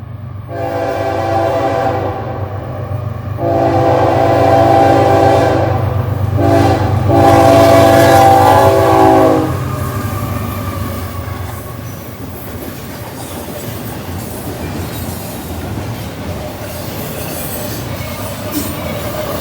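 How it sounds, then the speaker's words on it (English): A CSX light-power local freight train led by CSX 4415 and an ex-Conrail GP40 locomotive passes close by, sounding its loud horn in several blasts over rumbling engines before the noise eases into rolling wheels. "Led by a CSX 4415 and ex Conrail GP40."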